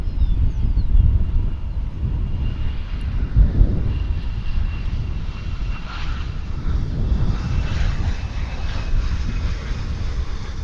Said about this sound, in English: that plane's coming in from Grand Island